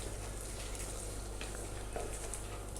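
Raw banana pieces frying and being stirred in a pan with spicy masala, a steady close sizzle with soft scraping and turning throughout.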